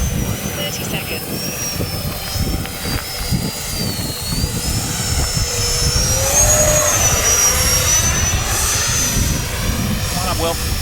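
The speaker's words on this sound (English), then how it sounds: "So we're going to show you guys how agile this plane is." A small FMS Rafale 64mm electric ducted-fan RC jet flying agile passes, a high whining fan tone rising and falling as it swoops overhead, over constant outdoor rumble with people talking.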